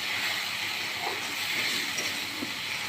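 Chicken with spice paste sizzles in a pan while it is stirred, giving a steady, close hiss of frying with faint scraping underneath, and no talk.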